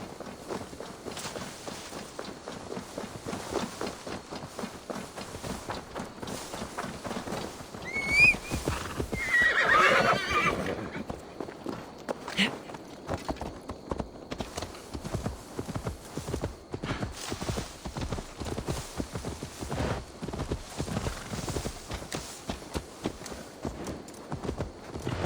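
Horse in the video game Assassin's Creed Valhalla, with rhythmic hoofbeats clip-clopping steadily, a loud whinny near the start, then continued trotting footfalls.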